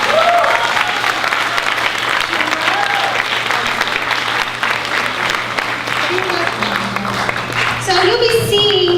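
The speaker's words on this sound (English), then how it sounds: "So let's give one more round of applause." A large crowd at a benefit fashion show applauds steadily and loudly throughout, with a few voices and cheers rising from the audience near the end.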